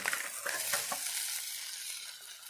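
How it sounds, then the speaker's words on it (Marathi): Poha flakes tumble into hot oil with onions and are stirred, a close, steady crackling sizzle with soft scraping that gradually settles. "आता हे छानपैकी आपण ते तेलामध्ये टाकून याच्यामध्ये आपल्याला पोहे सोडून घ्यायचे"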